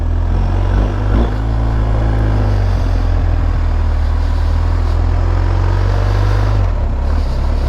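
A 2023 GSA motorcycle engine drones steadily at close range during a test ride, a constant low rumble with heavy wind buffeting throughout and a brief dip near the end.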